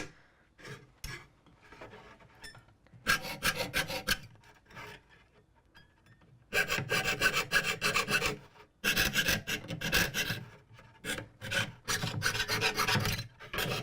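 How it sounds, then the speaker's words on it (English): A small jeweler saw cuts Michigan peninsula shapes, a close, raspy back-and-forth rasping in bursts that pause and restart, the strokes growing longer and denser after a few seconds. "we will get started by cutting out the Michigan peninsulas using my little jeweler saw."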